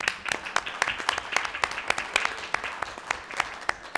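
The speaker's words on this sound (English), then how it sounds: "can we give them another round of applause?" A crowd at a school district board meeting applauds school leaders, steady scattered clapping from a modest group of people lasting several seconds.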